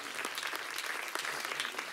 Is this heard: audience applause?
yes